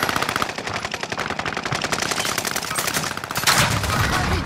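Dense, sustained automatic gunfire rattles continuously in a Call of Duty Warzone match on Rebirth Island, with rapid overlapping bursts that swell louder near the end and no talking.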